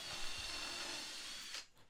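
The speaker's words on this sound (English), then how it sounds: "This project is mostly drilling pilot holes and putting in screws." A power drill drives screws into a wooden assembly bench with a steady whirring buzz for most of the moment, then winds down near the end, close and moderately loud.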